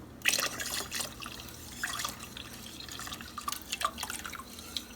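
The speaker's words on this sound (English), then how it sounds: "I'm going to add in the second can of chicken broth" Chicken broth poured from a can into a cooking pot, a soft irregular splashing and dripping of liquid up close, moderately quiet with no talking.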